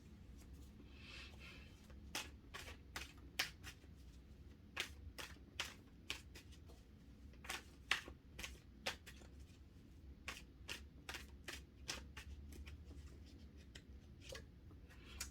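Tarot cards are shuffled quietly and repeatedly, with sharp riffling snaps at a steady, uneven rhythm over a low background hum.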